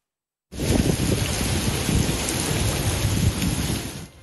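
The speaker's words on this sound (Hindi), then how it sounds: "सिर्फ 15 मिनट की बारिश से शहर की कई शाहराहों पर पानी जमा हो गया।" Heavy rain pours over Karachi during a brief downpour that floods city roads, a loud, steady, dense hiss of rainfall that starts abruptly and continues without any voices.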